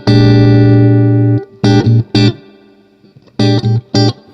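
Electric guitar fitted with a treble bleed, played with its volume turned down: a sustained chord rings for over a second, then a few short, choppy stabbed chords follow, clear and bright with full low end and no voices.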